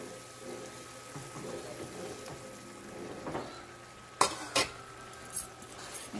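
A ladle of broth goes into a pan of cheesy risotto, followed by stirring: soft liquid sloshing and faint sizzle, then a few sharp scraping clinks of the spoon against the pan.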